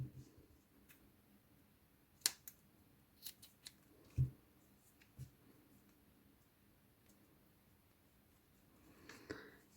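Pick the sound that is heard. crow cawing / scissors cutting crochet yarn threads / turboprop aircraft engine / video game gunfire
scissors cutting crochet yarn threads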